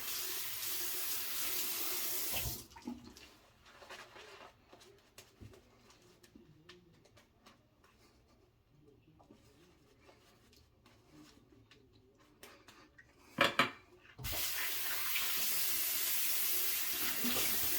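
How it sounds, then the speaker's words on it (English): A bathroom tap runs in a steady hiss for a few seconds, shuts off for a long quiet stretch of faint clinks while boar-brush shaving lather is worked, then gushes again at the end. "add a little bit of water."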